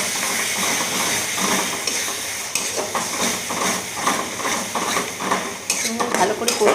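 Turmeric, chili powder and tomato paste frying for a prawn malai curry, a loud continuous sizzle and hiss with repeated metallic scraping of a spoon against the pan, close up.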